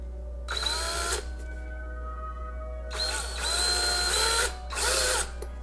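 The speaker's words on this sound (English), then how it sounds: "So let's start drilling." Power drill boring with a 1/8 inch bit and a unibit into an effects pedalboard enclosure: three separate whining bursts of motor and cutting noise, close and loud, with short quiet pauses between them and no talking.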